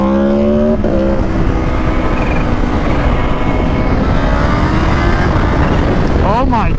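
Kawasaki H2 superbike engine roaring loudly and continuously as it accelerates, with a quick shift mid-run and rising harmonic sweeps near the end, wind rush underneath and voices talking over it.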